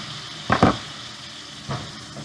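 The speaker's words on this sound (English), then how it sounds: "Turn the steak over." A ribeye steak sizzles in a pan, with a bright crackling burst as it is flipped and a softer second flare, over a low steady frying hiss.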